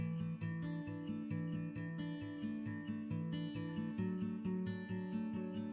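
A 1977 Takamine F385 twelve-string acoustic guitar is strummed in a steady, even rhythm, its chords ringing softly and at a low level with no voices over it.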